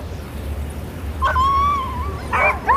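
Sled dogs being rigged into harness before a hunt on frozen northern ice, a few excited yips and a whining yelp standing out over a steady low wind-like rumble.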